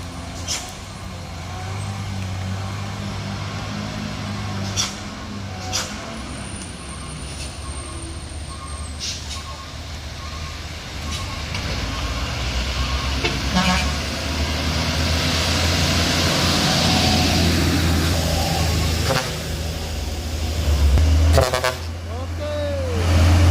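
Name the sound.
Pertamina tanker truck on a mountain road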